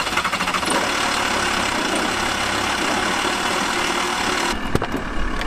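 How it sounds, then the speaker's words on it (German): A VW T4 diesel engine runs after a fuel filter change, a steady loud rough idle that holds evenly before a clattering change near the end. "wir gucken mal, ob das Auto direkt anspringt oder nicht"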